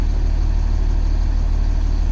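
A school bus engine idles close up, a steady low rumbling drone with an even pulse, constant in level for the whole stretch and without voices.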